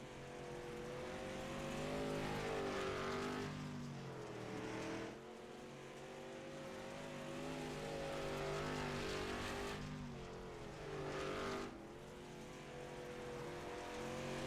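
Race car engines roar steadily on track in the iRacing sim, pitch rising and falling through gear changes as cars pass, with loud continuous drone and no talk.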